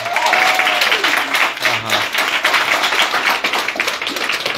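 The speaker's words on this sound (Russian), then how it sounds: "Итак, Дагмара, ваши аплодисменты." Loud audience applause at a Russian-language stage event, crowded and close clapping with individual claps audible, running the whole few seconds at an even strength.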